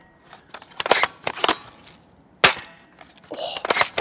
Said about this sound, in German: Oh, jeder zweite Schuss ist hier scheiße.